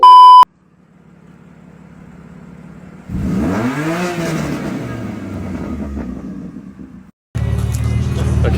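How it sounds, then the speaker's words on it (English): A car pulls up at a BMW M2 owners' meet at Caffeine & Machine, its engine swelling from a low idle into a loud nearby rev that holds steady, then cuts out before a busier burst of engine noise resumes. "Okay, coolest car's just arrived."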